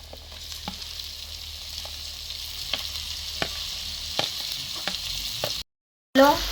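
Onion and tomato frying in a pan give a steady sizzle, with regular clinks and scrapes of stirring, then a brief silence before a louder burst of sizzling at the end.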